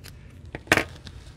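Scissors snipping through ribbon loops on a gift box, a couple of short, close metallic cuts with one sharper snip in the middle, alone in a quiet room.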